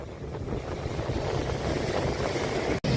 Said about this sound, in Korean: 파도 하얗게 흩어지는 파도